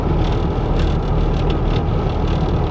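A stolen twin-turbo Ford F150 truck gives off a steady, loud, close rumble from its drivetrain or tires while driving, a continuous low drone with no pauses and no talk.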